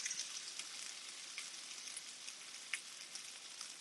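Black bean paste sizzles steadily in a hot pan while being stirred, a close, crackling hiss with occasional soft scrapes, no talking.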